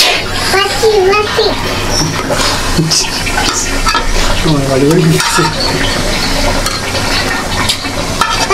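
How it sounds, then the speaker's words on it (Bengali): Rui fish being stirred and fried in a spiced masala in a pan, a steady sizzle with scraping stir strokes of the spatula against the pot, close and loud, with a voice talking over the cooking throughout. "তো মাছগুলোকে আমি কষিয়ে নিব"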